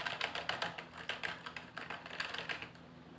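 Fast, steady typing on a computer keyboard while entering text in CorelDraw, a dense run of close, crisp key clicks with small irregular bursts and no talking.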